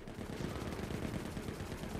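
Drones and cyborgs trading sustained gunfire in the video game Forever Winter, a dense, rapid crackle of automatic shots that continues without pause, distant and fairly faint.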